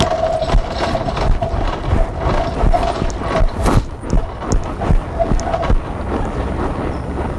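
Hooves of a horse cantering around an arena during cow work training with a simulated cow, a steady rhythmic drumming of beats that carries on throughout.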